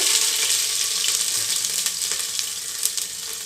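Spices with ginger garlic paste and onion fry in hot oil, giving a constant close, dense sizzle with small crackles throughout and no voices.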